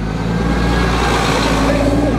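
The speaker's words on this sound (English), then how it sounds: "You can't hear because the bus went by." A bus passing close by on a street, a loud continuous engine roar and rumble that swamps the surroundings, with a faint tonal whine toward the end.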